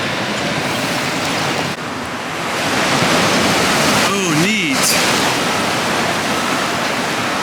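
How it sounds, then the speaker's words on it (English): Sea water rushing and washing through rocks made of packed shells at low tide on the Florida coast near Fort Matanzas, a steady broad surf-like hiss with wind buffeting the microphone throughout. "The water coming right through the rocks there."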